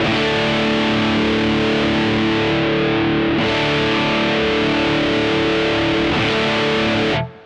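A loud electric guitar chord through a NUX Fireman distortion pedal rings out, restruck once midway, then sustains bright and gritty before cutting off sharply at the end.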